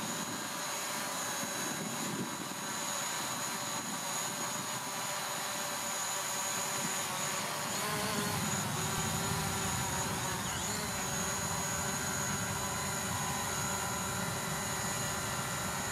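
A DJI Mavic Pro drone hovers in place outdoors, its propellers giving a steady, high, insect-like whine that holds constant and fairly close throughout, with a low rumble of wind joining partway through.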